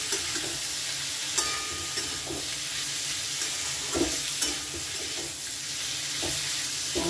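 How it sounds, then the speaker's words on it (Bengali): Vegetables with salt and turmeric stirred in a frying pan, a steady soft sizzle with a few scattered utensil scrapes and taps throughout, fairly quiet and without speech. "এবারেও এটাকে ভালো করে মিশিয়ে দিচ্ছি।"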